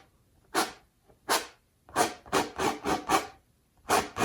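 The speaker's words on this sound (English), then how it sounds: "I'm scraping quite hard. You can hear that on the canvas." A palette knife scrapes paint across canvas in about eight short, rasping strokes. The first two are separated, then several come in quick succession, and a final stroke follows after a pause. The scrapes are close and clear, with no talking.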